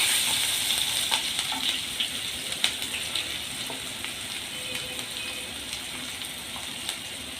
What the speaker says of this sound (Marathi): मी कांदा घेतलेला आहे मिडियम साईजचा तो आपण ह्याच्यात घालूया गॅस परतून घेऊया